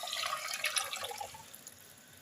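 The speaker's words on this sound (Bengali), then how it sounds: "বাটি ধোয়া জলটা আমি দিয়ে দেবো" Rinse water from a bowl poured into a pan of tomato-based chicken butter masala, making a soft splashing trickle that fades away, fairly quiet with no voices.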